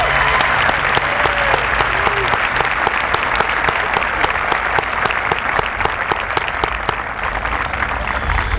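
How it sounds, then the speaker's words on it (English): Loud, full applause from the audience at a high school commencement for the Lorain High class of 1995, dense clapping continuing evenly throughout. "Let's give them a nice round of applause"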